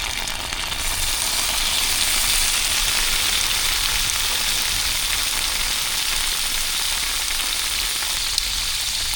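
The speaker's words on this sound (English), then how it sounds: "Now we're going to add our sausage." Smoked sausage pieces sizzle loudly in a frying pan with garlic, a steady dense crackle and hiss that runs unbroken throughout, close up with no voices.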